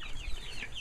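Chickens in a mobile chicken tractor cluck and squawk in a brief, busy flurry close by.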